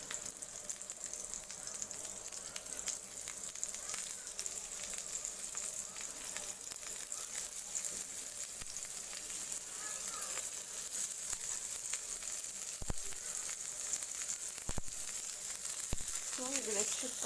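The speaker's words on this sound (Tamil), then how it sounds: "இப்போ நம்ம போட்டு ஃப்ரை பண்ணி எடுத்துடலாம்." Paneer sticks fry in hot oil in a pan, a steady, crackling sizzle that runs the whole time, with occasional sharper pops and a faint scrape near the end.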